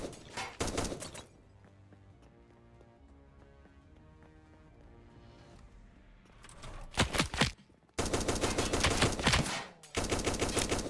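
Homing bullets fire in Last Epoch in loud automatic bursts, with a short volley at the start, then a quieter stretch of game music and effects, then several dense rattling barrages toward the end.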